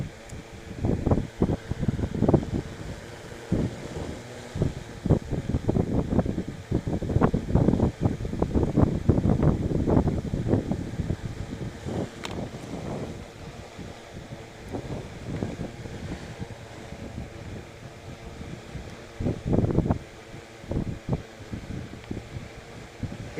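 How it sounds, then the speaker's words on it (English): Gusty wind at an outdoor cricket ground in Dhaka, Bangladesh, buffeting the microphone in strong irregular bursts that come and go across the stretch, with quieter lulls between. "It's a lovely breezy environment."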